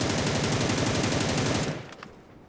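A Beryl M762 assault rifle fires a rapid, continuous full-auto burst in New State Mobile on the Erangel map, loud and close for under two seconds before stopping abruptly into a short echoing tail.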